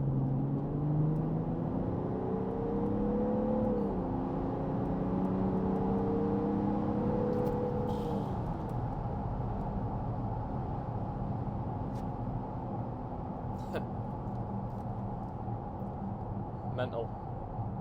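A remapped 6.0-litre V12 diesel car accelerates at full throttle, its engine note climbing and dropping at two gear changes before settling into a loud, steady drone.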